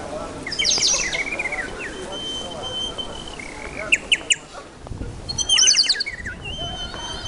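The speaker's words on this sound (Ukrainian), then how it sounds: "Я думала, пташка справді." Bird-like chirping on a street beside the north side of the cathedral in Lviv during Christmas, in bright bursts of rapid twittering that come and go over a busy outdoor background with faint voices.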